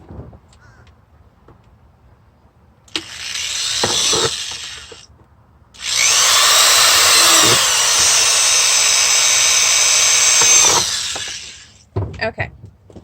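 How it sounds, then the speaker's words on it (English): A power drill whines loudly in two bursts, a short one then a longer sustained run, with quiet clicks and handling noises between. "So I'm just going to drill more holes around and use the knife to pull those out."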